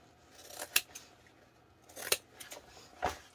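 Scissors trimming a fabric lining, three distinct crisp snips spaced about a second apart, close and clear against a quiet room.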